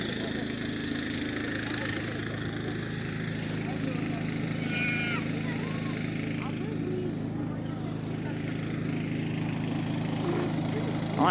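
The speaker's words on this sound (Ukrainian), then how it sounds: "слухають гул генераторів" A constant droning hum of generators running in snowbound Truskavets, steady and unbroken for the whole stretch, with faint background noise and distant voices.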